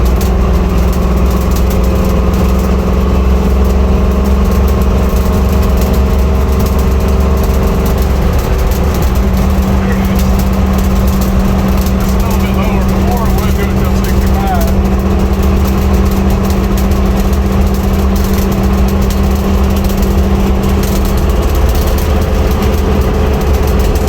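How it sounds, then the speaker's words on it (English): A 1966 Ford Bronco drives up a street with a loud, continuous engine drone heard from inside. The pitch steps as the transmission shifts partway through, and a voice is faintly audible. "So as you can see in that video, it's driving, shifting."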